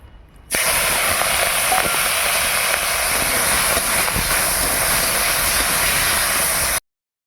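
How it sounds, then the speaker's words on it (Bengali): Potatoes, pointed gourd and shrimp frying in oil in a wok give a loud, steady, close hiss of sizzling that runs unbroken for about six seconds, then cuts off abruptly. "পটল ভাজা হচ্ছে তো আলুগুলো এবার ভেজে নেব আলু পটল ভেজে নেওয়া হয়ে এবার চিংড়িগুলো ভেজে নেব"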